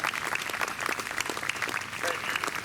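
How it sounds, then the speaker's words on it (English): An outdoor audience at a summer evening music concert in Mount Pleasant's Central Park, Iowa, claps steadily in dense, even applause throughout, fairly close, with a faint murmur of voices underneath. "Can we give them a round of applause for being here?"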